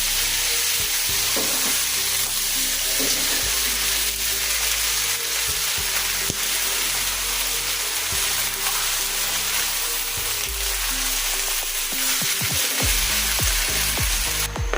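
Bitter gourd slices hiss and crackle in hot oil for a homemade karela bhaji, a dense, steady sizzle with occasional stirring scrapes, close and continuous.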